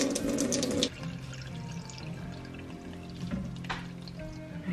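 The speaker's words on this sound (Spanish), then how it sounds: "Ya estoy poniendo el polvito y ahora le pongo agua." Water is poured onto powder in a container, a loud splashing gush at the start that settles into a softer trickle and gurgle, heard close up without talk.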